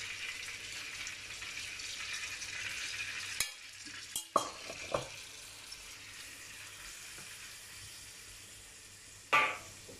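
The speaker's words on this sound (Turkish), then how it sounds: "Yağ eridi. Şimdi etimizi koyuyorum." Meat sizzles steadily in melted fat in a pan, a close continuous frying hiss broken by a few sharp clatters and stirring scrapes.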